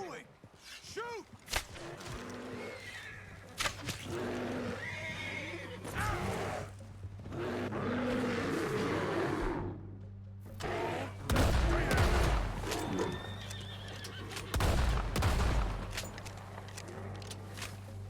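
Horse in the Red Dead Redemption 2 video game neighing loudly several times, with hoof clip-clops, whip cracks and gunshots around it, while people talk over the action.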